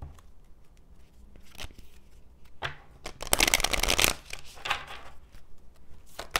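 Tarot cards being shuffled by hand close up: scattered soft flicks and riffles, then a dense, louder burst of cards fluttering together, followed by lighter taps and slides as the deck settles.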